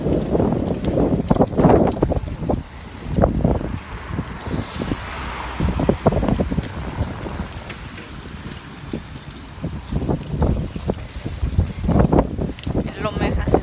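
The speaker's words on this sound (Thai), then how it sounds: "ลมแรงมากมันพายุเข้านะคะ" Strong storm wind buffets the microphone in gusty, rumbling bursts while a woman walks to work outdoors; she talks over it for most of the stretch.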